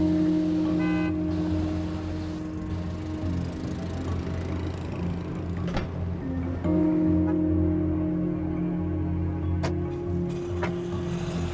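A car engine idles roughly with a steady low drone, running unevenly as if misfiring and overheating, heard close and continuous with brief rattles, no talk over it.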